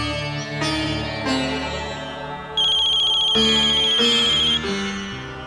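A mobile phone ringtone plays on and on with no answer, a melodic electronic tune that steps through repeated phrases and turns brighter and louder for a few seconds midway, with no voices heard.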